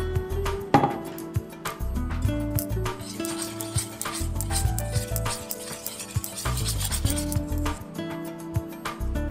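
Chopped black tea leaves being stirred into vegan madeleine batter with a busy, continuous scraping and rubbing in a bowl, close and fairly loud, with steady tonal sounds running underneath.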